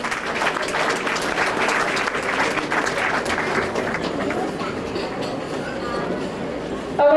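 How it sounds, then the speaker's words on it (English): Crowd applause at a fundraising dinner, a broad, steady patter of many people clapping in a hall that thins out over about seven seconds, with murmuring voices underneath. "Please give a big applause to Patricia Minnis."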